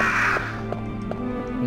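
Crows cawing in a Resident Evil DS video game, a few harsh, spaced caws over a steady droning ambient background, moderately loud and alone with no voices.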